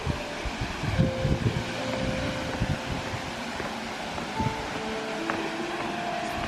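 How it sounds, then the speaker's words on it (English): A waterfall at the end of a trail in Garden Route National Park keeps up a steady, moderate rushing wash in the background, and faint tonal hums drift over it. "you can hear the water in the background"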